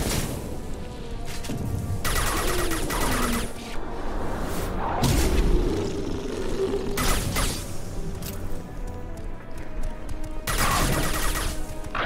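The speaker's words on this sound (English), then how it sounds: "It's an exploding bug." An exploding bug in Mass Effect 2 combat: several loud bursts and crashes spaced a few seconds apart over a steady rumbling battle bed, with no talk.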